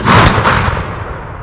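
A volley of 18th century muskets fired together, one loud booming crack that rolls out into a fading outdoor echo.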